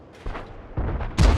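A tank cannon fires in the World of Tanks video game: a single heavy, booming shot near the end, loud and close, following a quieter stretch of rumbling engine and battlefield ambience.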